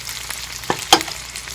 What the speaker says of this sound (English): I'm just going to give this a stir